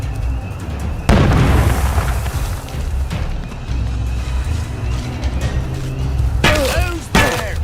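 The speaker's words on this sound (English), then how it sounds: "They're bombing us again!" Heavy booming blasts from a bombing raid in a retro-futuristic video game thud in near and far, with rumbling aftermath and shouting voices breaking in.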